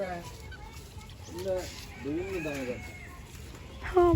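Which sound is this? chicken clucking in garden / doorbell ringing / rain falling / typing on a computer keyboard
chicken clucking in garden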